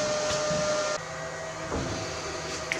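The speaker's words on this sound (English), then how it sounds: "So we'll just weld the other side." Welding on a part for a blacksmith's power hammer makes a steady, harsh hiss and crackle that holds at close range and shifts slightly partway through, with no voices.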